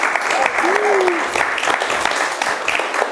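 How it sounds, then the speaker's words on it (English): Audience applause for Laks Kutty and Debbie Jones at a talk on performance reviews and feedback coaching, a steady wash of clapping over about three seconds with a brief voice or whistle-like tone rising above it. "Give a round of applause to Lax Kutty and Debbie Jones for this afternoon."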